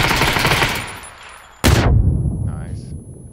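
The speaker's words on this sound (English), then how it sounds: "P90 bullet speed sucks ass." P90 submachine gun fire in a video game: a loud rapid burst fades, then a single sharp, very loud report cuts in, followed by a ringing tail and faint after-sounds.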